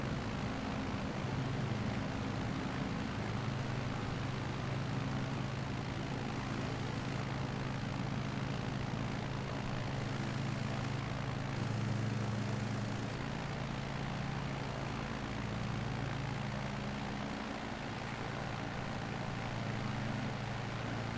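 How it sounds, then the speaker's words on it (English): A propeller airplane engine drones steadily in a video game as the plane flies, a loud, continuous hum with no talk over it. "that plane was really hard to control"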